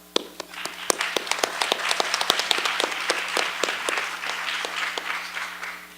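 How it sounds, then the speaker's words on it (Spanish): Conference audience applauding a professor as he is introduced, a burst of hand clapping that starts with a sharp clap and continues as a dense, steady patter, some claps standing out close by, then slowly thinning. "démosle un gran aplauso"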